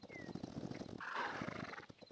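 A horse in the game Hytale whinnies loudly and up close, its neigh rising over a steady clip-clop of hooves.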